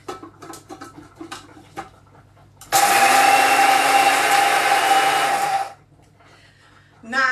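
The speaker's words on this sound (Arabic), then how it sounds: "ملح خشن من عند اي عطار مضمون حطيه في مطحنة بتاعتك" Coarse salt crushed in an electric grinder for a body scrub: a loud, steady whirring grind of about three seconds that stops abruptly, with someone speaking before and after it.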